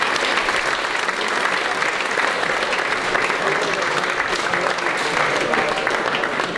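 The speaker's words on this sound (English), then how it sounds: "Big round of applause for Dave." Loud, dense applause fills the room at a golf charity dinner, a continuous roar of many hands clapping at an even level for several seconds.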